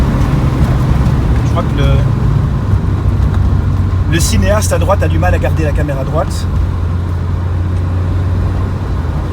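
A Lancia Delta Integrale Evolution 2 pulls in third gear, its engine a steady, loud drone heard from inside the car as someone talks over it partway through.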